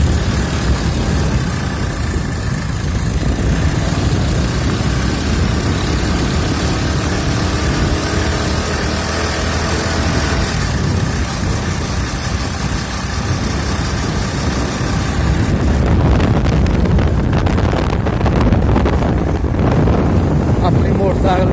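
A motorcycle on the road toward Kashmir gives a continuous engine drone under heavy wind buffeting against the microphone, growing rougher and louder near the end.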